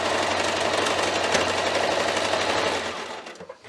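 Sewing machine stitching a quilted stocking, a fast steady mechanical whir with rapid needle chatter, close and loud, slowing and stopping near the end.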